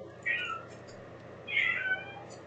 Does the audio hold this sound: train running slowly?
no